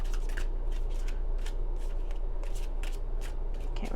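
Tarot cards shuffled by hand in a steady run of quick riffling bursts, close and fairly quiet, over a constant low background hum.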